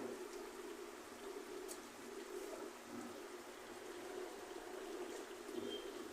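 A vegetarian potato curry with bori simmers and bubbles in a pot, giving a steady, soft, close, continuous seething with no voices.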